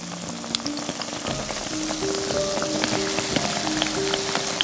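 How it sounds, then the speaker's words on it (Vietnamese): Small spoonfuls of batter sizzle and crackle in a pan of hot oil, a steady, close frying hiss with scattered pops throughout. "mình múc từng muỗng bột nhỏ nè, cho vào chảo dầu nóng nha"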